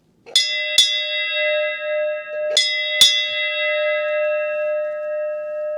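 A bright bell at a home tiki bar is struck four times in two pairs, each strike ringing out clearly with long, shimmering sustained tones.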